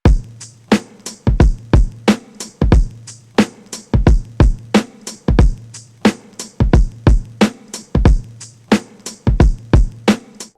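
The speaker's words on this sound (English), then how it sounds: "I decided to go with the drum loop that I made." Boom bap drum loop with hard knocking kicks and crisp snares in a steady, punchy late-1990s hip-hop groove, repeating evenly and loud with no other sounds.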